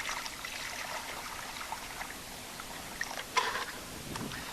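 Dirty water tipped out of a small gold pan during wet panning in the desert, a soft trickling pour with a brief louder splash near the end.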